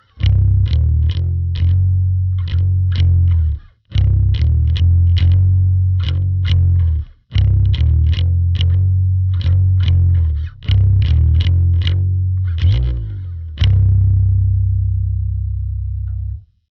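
Sludgy, heavily distorted bass guitar plays the slow riff from a song on the open low string, loud and close, in repeated phrases broken by short gaps and ending on a long sustained note.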